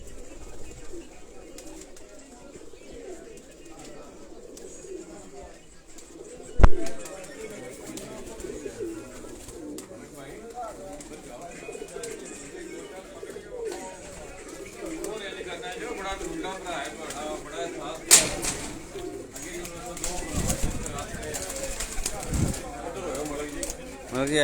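Racing pigeons flown in a tournament coo softly and repeatedly at close range, their low murmuring running steadily under people talking throughout, with occasional sharp knocks and a brief flutter of wings.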